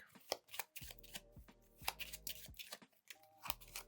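A deck of Pokémon trading cards being shuffled by hand, quick rhythmic riffles and taps in repeated bursts, close and quiet, with faint low hum between.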